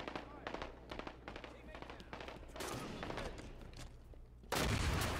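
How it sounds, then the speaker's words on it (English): Grenade explosions and gunfire in the video game Halo 5, a rapid burst of loud shots followed by a heavy blast near the end, with a voice talking under the action. "Watch that grenade."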